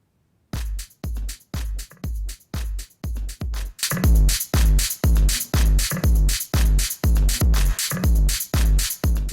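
Electronic drum beat run through a Reason Roughrider compressor set to heavy brick-wall limiting, punchy evenly spaced hits that thicken and grow louder and more squashed partway through, played alone.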